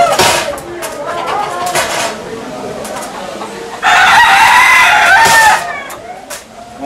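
A rooster placed on a scale crows loudly, several harsh drawn-out calls with clucking in between, while a person speaks French nearby.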